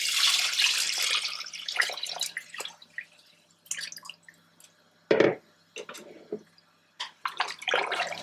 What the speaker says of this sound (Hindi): उसके बाद इसमें ऐड कर लेते हैं हम यहाँ पर पानी।